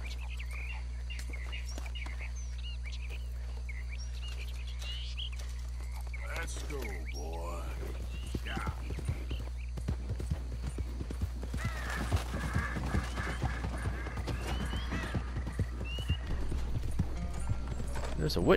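A horse's hooves clip-clop on the ground in the video game Red Dead Redemption 2, a steady rhythmic trotting that grows busier and louder over the final stretch, with birdsong, a low constant hum and occasional game voices around it.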